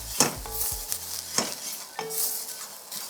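A Trini-style curry blend toasts in a hot pan with a soft sizzle, broken up by a few sharp clinks and scrapes of a utensil stirring against the metal.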